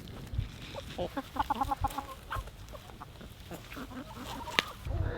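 Several chickens cluck and murmur in a coop on a 14-acre homestead, a run of close, repeated short clucks and soft calls at moderate level, with no one speaking over them.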